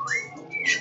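A short human whistle from a song: a single rising note that holds, dips briefly, then climbs again, clear and close.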